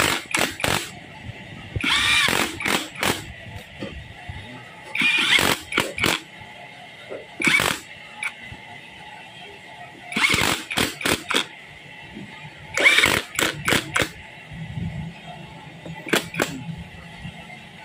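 Screws are driven in with a power tool while a Kawasaki engine is rebuilt, heard as short whirring bursts repeated every few seconds between quieter gaps of handling noise.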